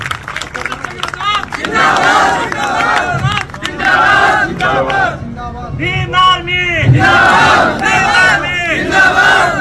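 A large outdoor political rally crowd greets a speaker with loud clapping, cheers and shouted slogans, rising in waves over several seconds with voices calling out.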